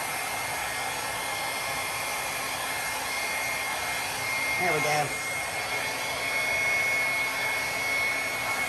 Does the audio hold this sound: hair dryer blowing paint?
yes